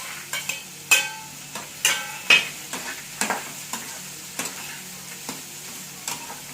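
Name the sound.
chillies being stirred and frying in pan for tomato chutney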